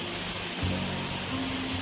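Water pours down the tiers of Pa Wai, Thailand's red waterfall, as an unbroken hissing roar with a deeper rumble swelling partway through; nobody speaks.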